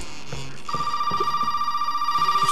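In the game Resident Evil 7, a telephone rings with an electronic trilling tone that starts after a brief pause and repeats steadily, moderately loud with faint background noise.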